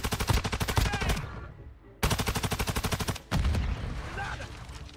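An STB gun fires in a video game as two loud, fast automatic bursts with a rapid, even rhythm and a short gap between them, followed by a shorter rumbling burst, all close and alone.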